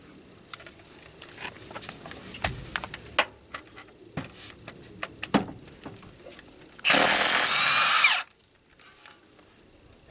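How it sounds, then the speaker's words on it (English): A Milwaukee M18 Fuel 2763 cordless impact wrench hammers at the crank bolt of a 2001 Honda Civic: one loud, dense burst of rapid impacts lasting about a second, after scattered clicks and clatter of tools in a garage. "I'm going to use the Milwaukee M18 Fuel 2763-22 to remove the crank bolt on"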